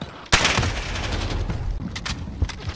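Gunfire in Call of Duty Modern Warfare multiplayer: a sharp loud shot opens a dense burst of rapid rounds, with more cracks and a second distinct report near the end, no talk over it.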